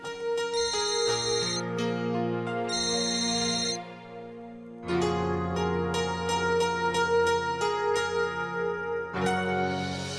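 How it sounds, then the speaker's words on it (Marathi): A melodic phone ringtone plays continuously for an incoming call, loud and bright, with a brief dip partway through before the tune resumes. No one speaks over it. "फोन आलाय तिचा, बघते काय म्हणते."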